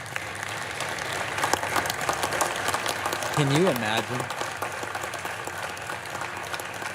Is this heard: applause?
yes